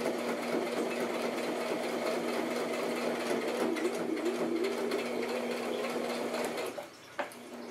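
Sewing machine running steadily while back stitching a handmade fabric handbag, a continuous close whirring hum that stops briefly near the end.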